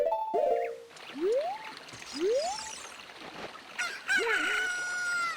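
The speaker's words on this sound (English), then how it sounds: "There's my chicken." A rooster in the video game Ocarina of Time crows several times in rising, drawn-out calls, loud and close, over light game ambience and a brief musical flourish near the end, no talking.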